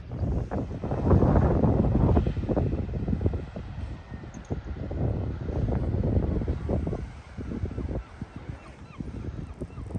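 Strong coastal wind at the southern tip of the Isle of Man buffeting the microphone in heavy, rumbling gusts that rise and ease, loud and close, with faint bird calls behind.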